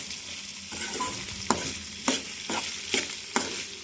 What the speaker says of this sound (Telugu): ఇది కొంచెం వేగాలండి, కారం వేసాం కదా,